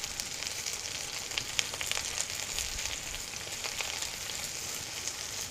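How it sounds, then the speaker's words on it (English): An orange ginger reduction of squeezed orange juice and ginger simmers in a pan with a quiet, steady sizzle and small crackling pops. "we're just going to let it simmer"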